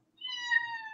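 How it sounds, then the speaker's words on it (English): A kitten lets out one clear, high, drawn-out meow close by, tonal and steady, with a faint background hum. "that's who you hear meowing in the background right now"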